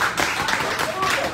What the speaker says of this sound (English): give God a hand clap of praise for that word